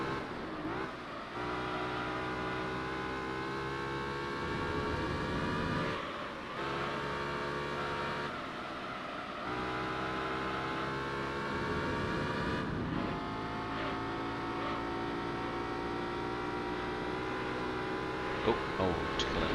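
A race car engine in the video game Gran Turismo 3 drones continuously with high, buzzing revs, rising and dipping through gear changes and short lifts around corners.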